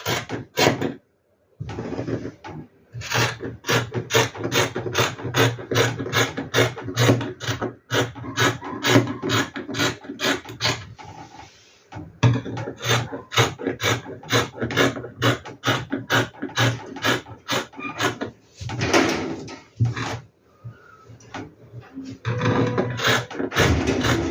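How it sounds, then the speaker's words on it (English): Scissors cut fabric along the seam allowance of a simple dress, a long run of rapid, evenly spaced crisp snips close by, paused briefly a few times before the rhythmic cutting resumes. "And then I'll cut my seam allowance."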